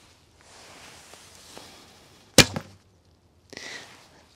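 An arrow shot from a 40 lb Keskin Tunc Ay bow with no string silencers: one sharp, close twang-and-thwack, followed a second later by a softer distant impact.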